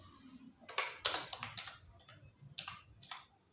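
Quick bursts of keystrokes on a computer keyboard while text is typed into a PowerPoint slide, a few clustered clicks followed by sparser, softer taps, close and fairly quiet.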